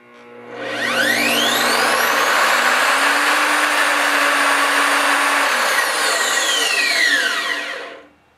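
An Evolution R255SMS 10-inch sliding miter saw motor spinning up after a delayed start: a loud, close whine that rises, holds steady for several seconds, then cuts off and winds down abruptly.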